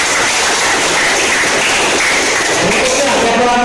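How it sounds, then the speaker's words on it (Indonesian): A class bursts into sustained, loud applause in a schoolroom lesson, a dense, even wash of clapping that holds steady throughout. "Oke, tepuk tangan dong"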